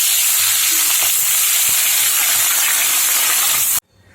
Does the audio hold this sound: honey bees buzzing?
no